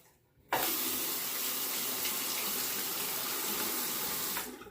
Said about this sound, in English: that didn't take very long either to rinse